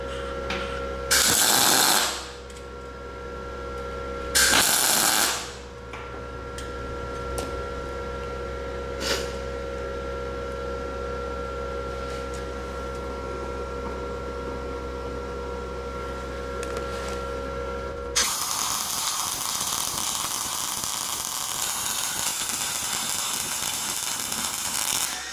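A Synergic Autoplus 130 dual-process welder running flux core wire on 3mm metal gives a steady machine hum with two brief louder bursts early on, then switches to a continuous crackling, hissing arc from about eighteen seconds onward.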